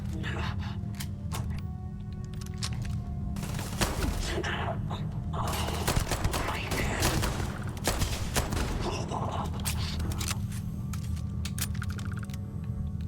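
Gunfire in the video game Starfield during a fight with mercenaries: a dense stream of sharp shots and thuds over a continuous low game rumble, with bursts coming fairly close together.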